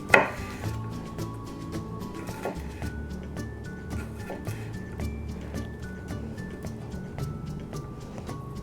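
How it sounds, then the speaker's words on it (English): Kitchen knife slicing garlic cloves thinly lengthwise on a cutting board, a steady run of many soft, close taps one after another, with faint low room noise underneath. "Thinly slice your garlic"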